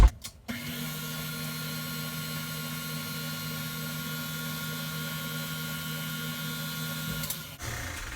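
Banana bread batter with vanilla is mixed by an electric mixer, which runs with a steady, close, even whir from start to stop with no speech over it.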